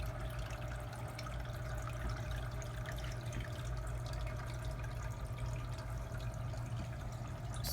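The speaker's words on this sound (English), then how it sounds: "the water is going to act as perhaps an ambient noise" Steady water running in a tank of water, a continuous even wash with no pauses, fairly close and alone with no voices over it.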